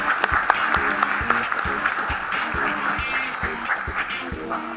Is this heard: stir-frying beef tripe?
no